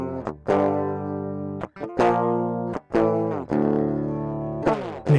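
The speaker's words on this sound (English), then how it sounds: "Now with some soft saturation." A guitar recording played through an STM32-based audio DSP with soft saturation: several plucked notes and chords ring out with sustained harmonics and short gaps between them, clear and up front with no talking.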